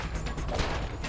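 Gunfire from enemies shooting at the player in a Spider-Man video game, a dense, continuous spray of shots at fairly low level across the whole moment.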